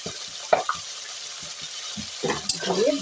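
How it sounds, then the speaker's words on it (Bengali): Shrimp and onion fry in a pan with a close sizzle, broken by several clinks and scrapes of a spatula against the metal; no voices. "দিয়ে ভালো করে চিংড়ি মাছটা একটু ভেজে নেব।"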